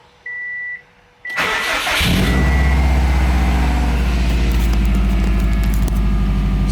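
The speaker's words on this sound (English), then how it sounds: "let's give this thing a start and see if it runs right" A 500-horsepower Subaru WRX engine cranks and fires up after a brief electronic beep, then settles into a loud, steady idle that continues without a break.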